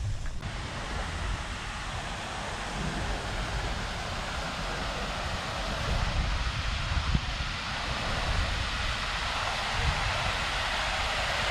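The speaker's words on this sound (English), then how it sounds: "Oh, it's got like a waterfall too." Waterfall and fountain in a park in Victoria, Canada give a constant broad rush of falling water, steady and fairly soft, with no voices.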